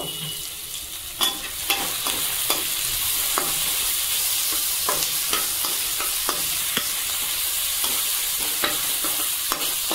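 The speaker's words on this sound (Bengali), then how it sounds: "তো এবার আমি ভালো করে নেড়ে চেড়ে নেব।" Chicken pieces with grated ginger and split green chillies sizzle steadily in a hot pan while a spatula stirs and scrapes in irregular clacks and taps, close up with no talking.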